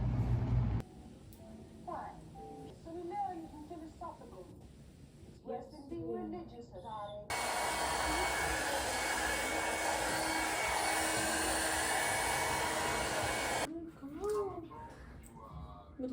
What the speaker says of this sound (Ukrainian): щітку фен, так що ми спробуємо зробити зачіски